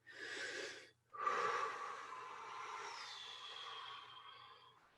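Deep breathing during a meditation, a short inhale-like breath followed by a long, slow, airy breath that gradually fades, close and soft with no talking.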